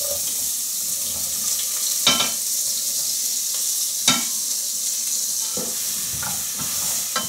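Vegetables fry in oil in a pan alongside lamb's neck, a steady close sizzle with a few sharp stirring clatters and spatters breaking through.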